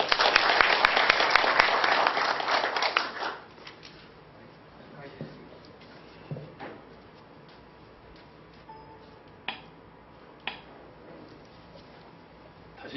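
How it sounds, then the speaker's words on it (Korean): An indoor audience at a forestry conference applauds loudly for a few seconds, then the clapping stops, leaving a quiet room with a few faint ticks and knocks. "연사님께 뜨거운 박수 보내드리기 바랍니다."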